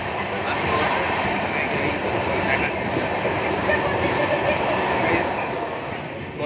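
A train rolls steadily into Basta station in Odisha, a dense, continuous rumble of wheels and carriages with faint rail clatter throughout, easing slightly toward the end.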